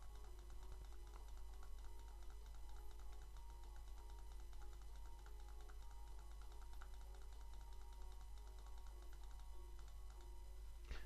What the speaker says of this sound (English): I'm gonna keep clicking this.